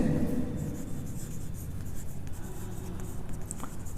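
Marker or chalk scratching across a board during a grammar lesson, a continuous close rubbing scrawl with short strokes and brief pauses, heard alone without any talking.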